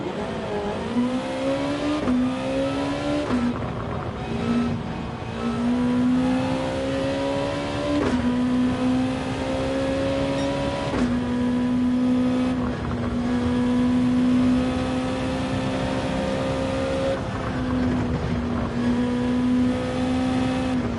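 Race car engines in a Gran Turismo 7 race rev loud and close, the pitch climbing through each gear and dropping at every shift, with the sharp steps repeating across the whole run and faint tire noise underneath.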